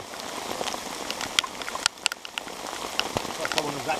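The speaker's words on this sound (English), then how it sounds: "A little bit rainy." Light rain pattering on a surface beside a lake during a perch fishing trip, steady soft patter with scattered sharper drops, and people talk briefly over it.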